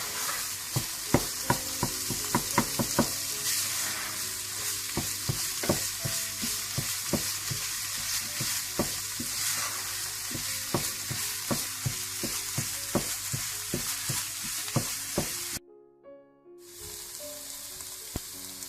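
Khoya frying with grated carrots and dried-down sugar syrup for gajar halwa, a steady loud sizzle with repeated spoon-scraping stirs in a pan for about fifteen seconds, then a brief pause and a softer sizzle.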